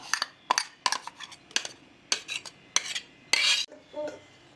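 Metal utensils clink and scrape sharply against a kadai as crushed lemons are scooped in, in irregular separate knocks and taps over a quiet kitchen background.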